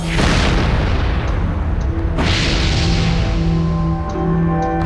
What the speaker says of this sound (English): flames shoot 400 feet into the air, and the explosion is seen throughout the city